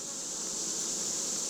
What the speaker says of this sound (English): bees that are a little bit anxious about my arrival